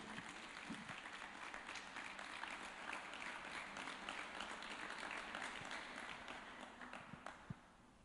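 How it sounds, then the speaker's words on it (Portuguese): A church congregation applauds for several seconds at a Sunday service, dense and steady clapping filling the room before it thins out near the end. "Uma salva de palmas para Jesus."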